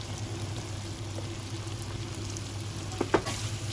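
Ground spices including salt, turmeric, red chilli, garam masala, coriander powder and fenugreek roasting in a pan for aloo gosht, with a faint steady sizzle and a couple of brief stirring scrapes near the end.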